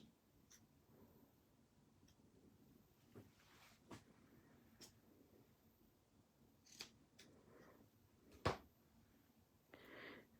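Scissors cutting designer series paper, quiet close snips and crisp clicks scattered across a mostly silent tabletop, with a sharper cut near the end.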